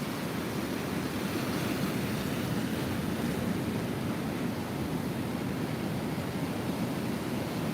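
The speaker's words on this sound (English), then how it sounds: "As the tide finishes, these waves are going to dry up" Ocean waves wash onto a beach at sunrise as the tide finishes, making a steady, dense broadband roar with no distinct breaks and no voices.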